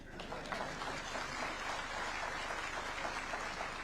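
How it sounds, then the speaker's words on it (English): Sustained applause from a graduation ceremony audience at Uzima University, steady dense clapping throughout with no pauses, moderately loud and crowd-wide. "A better round of applause for him."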